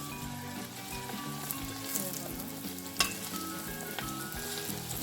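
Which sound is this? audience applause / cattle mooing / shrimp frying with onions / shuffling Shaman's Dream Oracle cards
shrimp frying with onions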